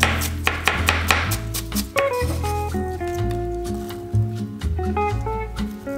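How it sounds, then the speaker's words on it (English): Knife chopping an apple into small pieces for a mackerel, cress and crème fraîche filling, with a quick run of sharp board taps under strong background music. "Cut the apple into small pieces."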